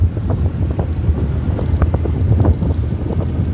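Steady outdoor wind at Sunset Park, Las Vegas, buffeting the microphone, a continuous low rumble with gusty swells, no voices.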